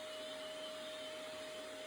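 A vacuum cleaner fitted with a pipe-fitting extension hose runs steadily with a constant drone and a high whine, no change in pitch or level, close by and alone.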